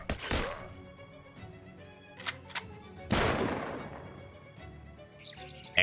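Gunfire in the video game Shadows Over Loathing, two loud sharp blasts at the start and near the middle of the clip, each trailing off, with smaller impacts and game sounds between them.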